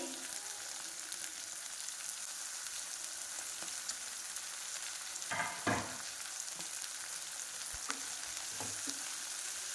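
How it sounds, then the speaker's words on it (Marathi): Mixed vegetables including peas and chopped tomato cook in oil in a pan for vegetable pulao, giving a soft steady sizzle with a few spatula scrapes and clinks, quiet and without speech. "या सर्व भाज्या आपल्याला तेलामध्ये चांगल्या शिजवून घ्यायच्या आहेत"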